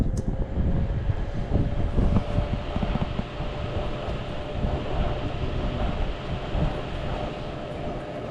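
A furnace blower fan runs on low heat, a steady broadband whoosh with a faint tonal hum, heard up close with some clatter and handling noise in the room.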